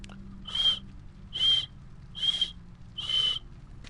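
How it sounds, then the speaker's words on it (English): A character in The Witcher 3: Hearts of Stone whistles four short, clear, high notes in an even rhythm, each lasting about half a second, over a quiet low hum. "That's my best whistle"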